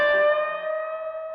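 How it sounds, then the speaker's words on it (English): A distorted electric guitar chord rings out and sustains steadily, fairly loud and alone, with a slight effects-unit echo tail. "with a bit of distortion"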